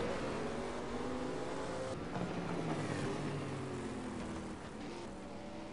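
The Ford GT race car's engine in a sim-racing video game during a 500 km race at Zandvoort, a continuous rasping drone with rising and falling pitch as it shifts and accelerates.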